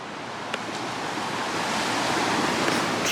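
Steady surf washing ashore on a warm, humid tropical beach at the edge of the Daintree Rainforest, a constant broad roar of breaking waves with some wind buffeting the microphone.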